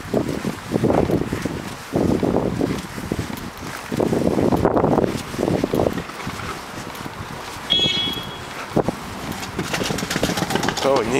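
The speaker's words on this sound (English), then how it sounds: "It's too windy." Heavy wind buffets the microphone in loud gusts, roaring almost continuously, with faint voices and an engine-like rumble beneath.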